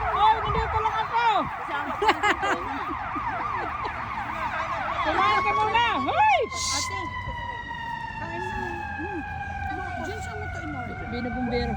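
A fire truck siren wails nearby, rising and falling rapidly before shifting to a long steady sweeping tone, with people talking over it.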